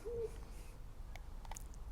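A pigeon coos outdoors, a single soft low call near the start, followed by faint scattered bird chirps and quiet background noise.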